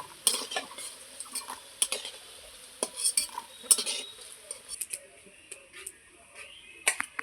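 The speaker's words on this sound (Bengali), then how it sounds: "এরকম করে উল্টে পাল্টে সমস্ত বড়াগুলো ভেজে নেব" Fritters (bora) frying in a pan and being turned over with a utensil, giving irregular close clinks and scrapes of metal over a faint sizzle, with no talk.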